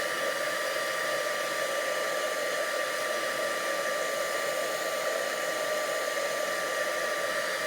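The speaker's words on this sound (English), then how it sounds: "the heat tool's already warmed itself. So it'll turn quite fast." Heat embossing tool blowing hot air during a stamping craft project, a steady even whoosh with a faint high whine, continuous and close for the whole stretch with no talk.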